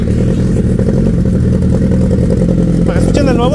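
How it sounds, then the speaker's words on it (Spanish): A motorcycle fitted with a new exhaust idles loudly up close with a steady, throbbing rumble, and people talk near the end. "Para que le des unos acelerones, güey."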